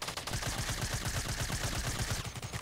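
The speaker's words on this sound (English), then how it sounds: "I'm getting shot at." Rapid automatic gunfire in Fortnite, a steady fast stream of close, loud shots rattling without pause from start to end.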